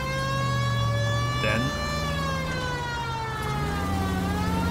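A wailing police car siren in the video game L.A. Noire rises and falls steadily throughout, with a voice speaking briefly over it.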